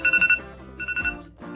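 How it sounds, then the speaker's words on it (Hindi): A clone iPhone 14 Pro Max plays a ringtone through its built-in speaker, a quick run of bright electronic trill bursts followed by a short melodic phrase, close and fairly loud. "इसमें और भी हमें काफ़ी रिंगटोन्स देखने को मिल जाती हैं"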